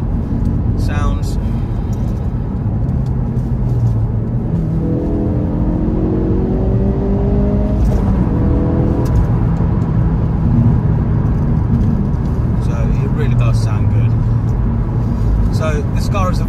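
2016 Ford Focus RS with a 2.3-litre engine and six-speed manual gearbox, a loud, steady engine drone from inside the car, rising in pitch through a rev around the middle, with someone talking over it.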